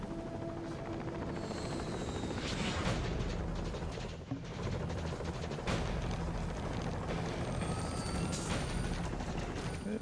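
Continuous loud helicopter rotor and engine roar from the Stranglehold action video game, dense and close throughout, mixed with bursts of gunfire and explosions.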